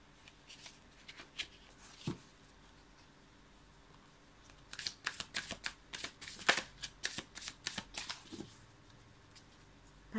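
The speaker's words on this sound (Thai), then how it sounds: "เดี๋ยวสับอีกชุดหนึ่ง" A deck of tarot cards is shuffled by hand, with soft riffling bursts that start sparse and then come in quick, dense runs near the end, up close and fairly quiet with no talking.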